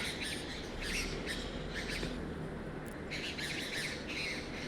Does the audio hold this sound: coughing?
no